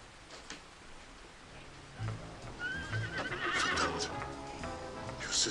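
A horse neighs loudly and close by, its whinny rising and falling over a few seconds, with hoof clip-clop and faint background noise beneath.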